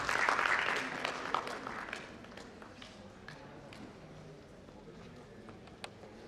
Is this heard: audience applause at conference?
yes